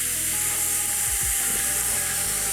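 Lamb chops sear in a hot pan with a steady, even sizzle, joined by a couple of brief low clunks of the pan or utensils.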